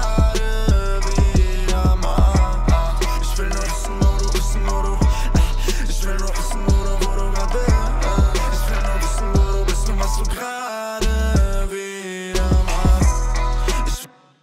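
A full mixed music track with steady drums, bass and layered instruments playing continuously and loud, dropping briefly into sparse hits near the end before the full mix returns.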